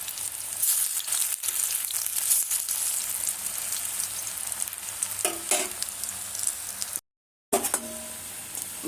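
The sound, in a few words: frying gram flour onion fritters in oil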